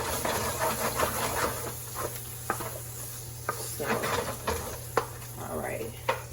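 Browned ground beef sizzles in a pan as canned Rotel or chili tomatoes are stirred in for Frito pie enchiladas, a steady hiss broken by sharp scrapes and clicks of the spoon against the pan, with faint talk in the background.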